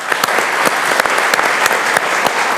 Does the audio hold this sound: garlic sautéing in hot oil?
no